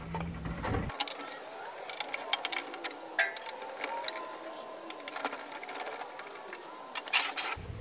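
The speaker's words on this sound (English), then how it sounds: "Now I can pull out the 4 screws on the back side." Four screws being taken out of the back panel of a PrimeWeld MIG 285 welder, giving a busy run of close mechanical clicks, whirs and metallic ticks, steady through the stretch with a louder burst near the end.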